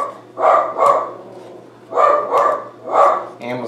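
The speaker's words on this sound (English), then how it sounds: "Hopefully you can't hear the dog." A pet dog barks in short bursts of two or three barks, fairly close and loud indoors, with a brief whimper at the end and no talking during the barks.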